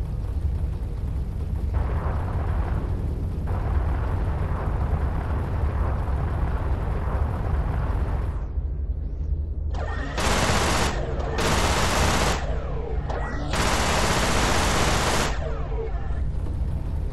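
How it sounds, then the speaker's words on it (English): In the Everspace space-combat game, a ship's guns fire at a mineable asteroid, sending out bursts of rapid machine-gun-like shots over a steady, loud engine rumble, with longer roaring stretches that break off partway through. "There is a mineable asteroid nearby. Shoot at it to extract fuel."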